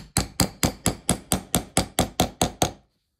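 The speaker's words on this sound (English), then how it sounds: "Just hammer." Eleven evenly spaced, sharp hammer strikes drive a metal stitching fork through a leather wallet, each crisp knock fading quickly, close and loud with no talking, ending in silence.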